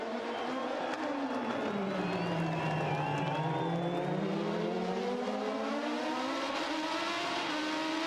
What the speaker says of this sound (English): Ryan Briscoe is trying to fight off the challenge of Scott Dixon on the final lap of the race.